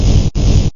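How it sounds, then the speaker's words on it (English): Flamethrower in a retro Metal Slug-style side-scroller: two short, loud hissing bursts of harsh noise, back to back with a brief gap between. "Flamethrower."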